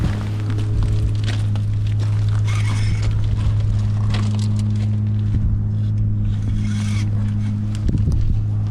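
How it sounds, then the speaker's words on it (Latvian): A small tractor-style lawn mower engine runs steadily with a loud low hum throughout, some rattling and mechanical noise on top, no clear speech. "Vēl zāles pļāvēja motors."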